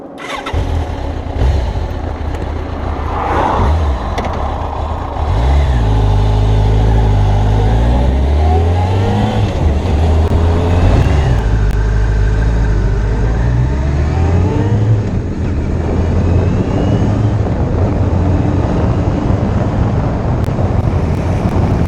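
A Kawasaki ZZR 1200 motorcycle starts up and pulls away, its loud engine rising through the gears with repeated revving climbs and shifts, then holding a steady roar at speed with wind rush.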